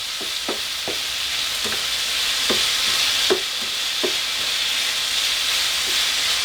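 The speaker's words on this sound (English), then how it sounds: "let's mix the meat real quick so it cooks evenly" Ground meat frying in a pan hisses with a steady, bright sizzle, while a spatula stirs it in a string of light scraping taps, close and alone.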